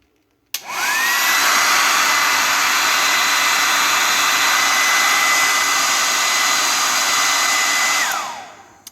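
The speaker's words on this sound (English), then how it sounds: "I'm turning the hairdryer on high." A hair dryer running on high to melt crayons blows a loud, steady broadband roar that starts abruptly, holds evenly for about seven seconds with a faint whine, then cuts off and winds down.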